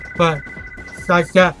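A phone's steady electronic ring tone runs continuously in the background while someone talks over it.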